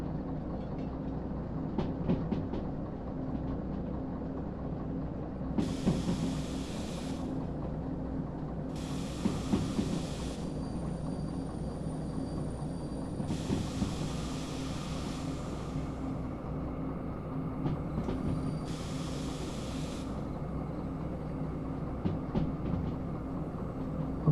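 A heavy train rolls steadily on rails in the Derail Valley simulation, a constant low rumble with faint clicks, broken by four bright hissing bursts like brake air releasing.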